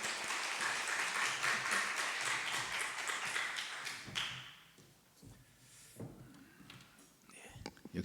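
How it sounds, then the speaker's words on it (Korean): Church congregation at a Sunday morning service applauds in a dense, fairly soft wash of clapping that fades out after about four seconds, followed by quiet shuffling, taps and a few soft voices. "하나님께 감사의 박수 올려드리겠습니다."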